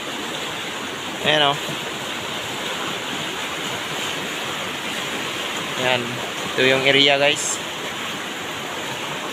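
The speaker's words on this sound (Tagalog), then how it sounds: "Malakas talaga yung ilog." A strongly flowing river, too strong to cross and turning murky, rushes with a loud, steady roar close by, while someone speaks briefly in short phrases over it.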